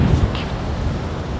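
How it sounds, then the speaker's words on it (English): Wind roars and buffets against the microphone in low rumbling gusts on a beach ahead of a tropical storm, with a brief faint sound near the start. "Oh no, it's windy."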